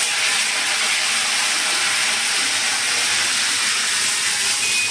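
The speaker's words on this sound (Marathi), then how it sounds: "कढीपत्ता टाकते" Curry leaves hitting hot oil in a pan, a loud, steady, bright hiss of frying that stays continuous and close throughout, without voices.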